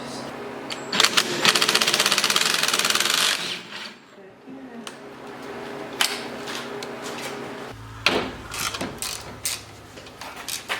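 Mechanical clicking and ratcheting bursts come in uneven spurts as a ratchet turns a seized wood chipper engine, with metallic rattling and a low engine-like rumble starting near the end.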